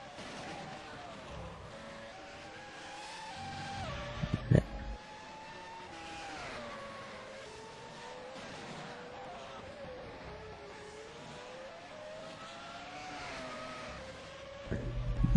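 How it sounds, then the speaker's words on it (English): Race cars in the rFactor F1 2011 sim at the Montreal circuit in Canada drone past on a straight, engine pitch rising and falling as several cars go by at mid distance, with a couple of brief louder bursts. "many cars on track going down the final, the penultimate straight"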